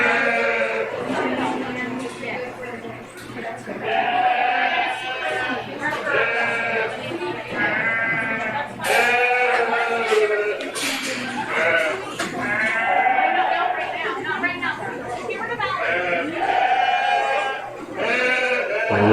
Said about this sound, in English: Entering the ring will be our Hampshire winner ewe lamb, London Mefford.